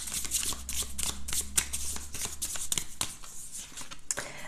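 Tarot cards are shuffled and drawn, a rapid rustling flutter of card edges with quick slaps and riffles, close and fairly soft, with a low hum underneath.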